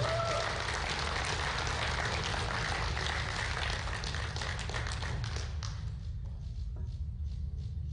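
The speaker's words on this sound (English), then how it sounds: "Big round of applause now for Newt Douglas" Audience applause at the 2019 USA Powerlifting Open Nationals for a gold medal winner: dense, steady clapping from a large crowd that fills the room, then thins out and tapers off toward the end.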